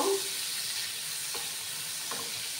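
Paneer pieces fry in a pan for a one-pot meal, giving a soft, even sizzle with a couple of faint stirring scrapes and no talking.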